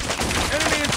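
Gunfire in the Call of Duty Mobile video game: a dense, loud burst of rapid shots filling the whole moment, mixed with other game noise.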